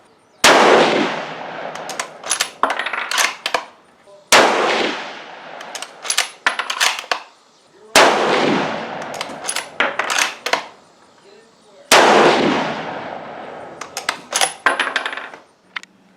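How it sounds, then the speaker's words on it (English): Savage Axis II rifle shots at a target range, four loud, sharp reports spaced roughly four seconds apart, each followed by a rattling, clinking tail. "Now Matt's going to fire rounds 21 through 24"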